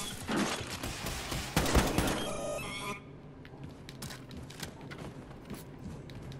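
Rapid gunfire in the video game Wolfenstein 2: The New Colossus rattles loudly for about three seconds, then gives way to quieter scattered shots and mechanical clatter.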